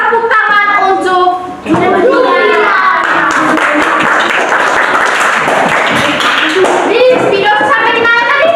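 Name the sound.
class clapping hands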